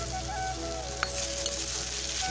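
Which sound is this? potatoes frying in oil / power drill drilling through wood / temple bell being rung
potatoes frying in oil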